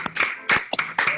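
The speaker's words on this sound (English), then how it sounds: "We encourage you to unmute, turn on your video, and applaud the Cleantech Open Northeast Regional finalists." Several scattered hand claps from a small online audience applauding regional finalists of a cleantech startup competition, sharp and close, arriving in uneven bursts with brief gaps, like a few people clapping at their own microphones.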